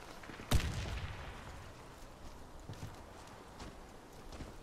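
Gunfire in the video game Warface on a factory map, a single sharp loud shot near the start followed by fainter scattered distant shots and footstep-like thuds through the rest.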